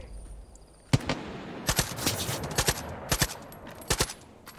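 Sharp gunshot cracks from the video game Far Cry 5, fired in bursts of two or three at irregular intervals, moderately loud against a quiet background with no talking.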